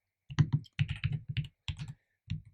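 Close bursts of typing on a computer keyboard as Go code is written, clusters of rapid key clicks separated by short pauses, with no voices.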